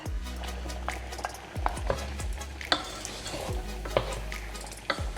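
Shrimp and vegetables stirred and tossed in a sizzling pan, with a spatula scraping and clinking against the metal at irregular intervals over a steady fry.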